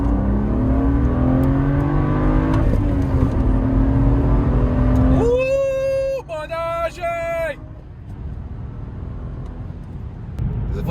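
BMW 335i with an N55 engine and front-mount intercooler making a second-gear wide-open-throttle pull, engine note rising steadily under cabin road noise before easing off, with voices talking over it.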